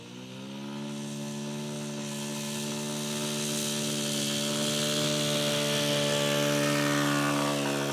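A small engine drones steadily and builds slightly in pitch and loudness, a Top Flite Bonanza V35 model airplane rolling along a runway, close and continuous.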